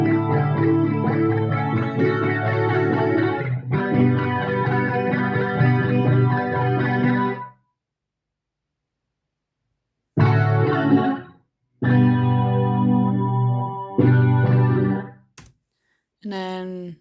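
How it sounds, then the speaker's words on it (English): Electric guitar chords played through a phased bite amp distortion effect, several sustained strummed passages separated by silence, with brief clipped bursts toward the end, close and loud. "I put a phased bite amp on it, or sound effect for distortion"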